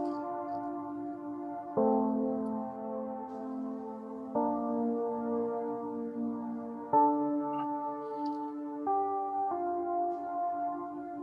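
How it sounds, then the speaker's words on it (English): Soft, sustained synthesizer pad chords from a plugin, playing the second part of the verse of a song, change every couple of seconds, warm and smooth, playing alone at a gentle volume. "I played that on some pads."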